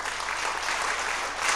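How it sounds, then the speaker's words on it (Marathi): Audience applause from a crowd at a college event, a dense, steady wash of clapping that fills the whole short stretch without pause. "त्याला टाळ्या वाजवा त्याच्यासाठी"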